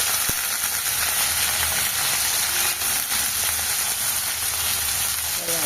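Beans frying in hot oil with tomatoes and browned onions in a curry pan, a loud, steady broadband sizzle that holds throughout with faint clicks of a utensil underneath.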